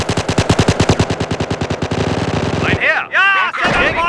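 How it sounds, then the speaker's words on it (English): Rapid machine-gun bursts and gunfire rattle loudly in Company of Heroes, a Battle of the Bulge mod, a dense volley of shots that stops abruptly and gives way to shouted voices. "They're shooting us!"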